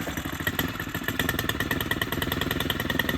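A STIHL Kombi tool's small two-stroke engine runs just after starting on half choke, its rapid, steady clattering putter close and fairly quiet, with no talk.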